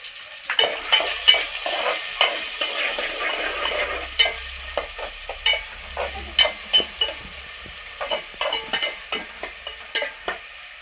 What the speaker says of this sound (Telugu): ఉల్లిపాయలు అయితే మగ్గుతున్నాయి కదా